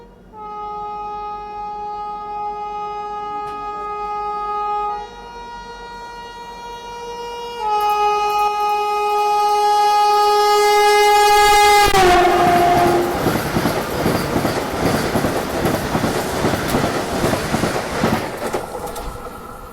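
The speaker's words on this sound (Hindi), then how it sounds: "तो फाइनली यहाँ पे विशाखापट्टनम दुर्ग वंदे भारत ओवरटेक कर रही है।" Visakhapatnam–Durg Vande Bharat express overtaking a halted train at Lanjigarh Road Junction station: a long, loud multi-tone horn sounds in sustained blasts, then gives way to a rising rush and rumble of passing coaches close by.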